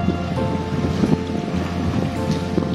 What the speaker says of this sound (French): Quelques vagues aujourd'hui, mais surtout beaucoup de courant pour traverser et rejoindre la petite île en face.